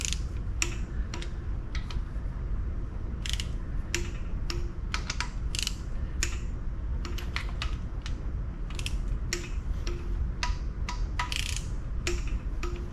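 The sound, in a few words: torque wrench clicking while tightening bolts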